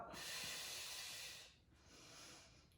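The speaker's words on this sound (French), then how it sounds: "Toujours en prenant de grandes et profondes respirations et on relâche" Deep, slow breaths during a stretching exercise for the sacroiliac joint, a long breathy inhale or exhale followed by a softer second one, close and quiet with no talking.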